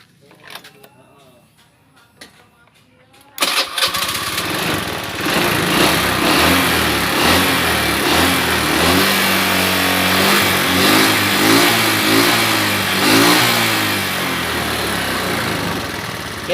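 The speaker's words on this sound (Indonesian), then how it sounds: "Kita tes, hidupkan mesinnya." A vehicle engine cranks and catches at about three and a half seconds, then runs loudly with rising and falling revs, just after its weak battery was repaired; quiet voices are heard before it starts.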